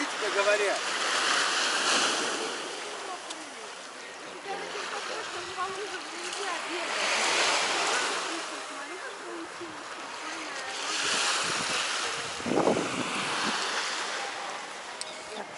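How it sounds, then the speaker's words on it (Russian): Sea waves wash in and roll back on the shore at Zelenogradsk in slow, repeated surges, with a broad rushing hiss and occasional splashes. "И вот море наше."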